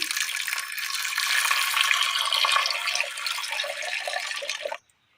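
Water poured into a pressure cooker holding jackfruit seeds, soaked lentils, onion and green chili, a loud continuous splashing pour lasting several seconds before stopping abruptly.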